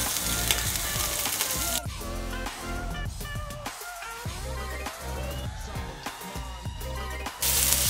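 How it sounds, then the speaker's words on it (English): Seasoned, butterflied king prawns sizzle steadily in a hot grill pan, giving a bright continuous hiss set against prominent background music, with occasional sharp taps as they are laid down. "I'm gonna lay them down this way into my grill pan"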